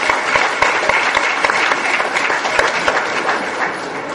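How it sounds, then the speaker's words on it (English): An audience at a Guyanese opposition candidates' session claps steadily and fairly loudly for about four seconds, with no voices over it. "Give yourselves a round of applause."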